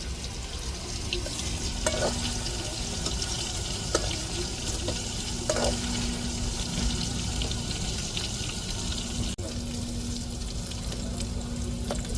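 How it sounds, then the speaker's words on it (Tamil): Marinated chicken pieces deep frying in hot oil make a constant bubbling sizzle, fairly close, with a few faint clinks from a utensil and no talking. "சிக்கனை அப்படியே கொஞ்சம் கொஞ்சமாக போட்டு பொரிச்சு எடுப்போங்க"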